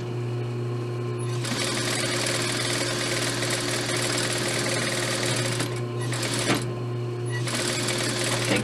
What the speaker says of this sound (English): I like to sew my band to the skirt this way on the inside